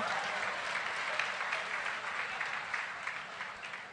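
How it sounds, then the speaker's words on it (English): Quiet, sustained applause rises from a studio audience as a guest is called onto the stage of a talk show, a faint but even stretch of many hands clapping with no voices over it. "Please, a big round of applause."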